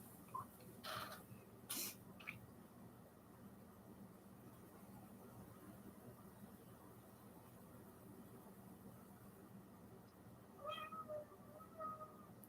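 Indoor cat meowing and whining to be let out into the garage, a few close, fairly faint meows near the start and again near the end over quiet room noise.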